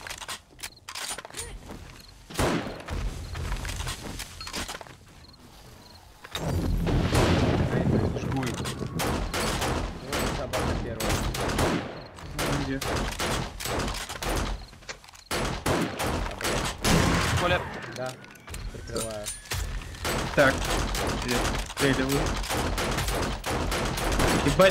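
Dense gunfire in the video game 7 Days to Die during a blood moon horde, with rapid bursts and sustained volleys running almost continuously, loud and close, broken by brief pauses, with occasional mechanical clicks.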